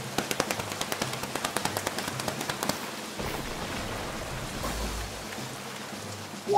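A group of preschool children pat their legs to imitate heavy rain, a dense, steady patter that starts with distinct slaps and then blurs into a continuous, rain-like hiss.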